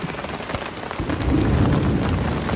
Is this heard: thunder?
yes